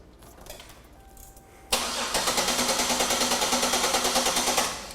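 After a short quiet lead-in, a car's starter spins the engine over in a loud, even, rapid pulsing crank heard up close, continuing for several seconds before easing off.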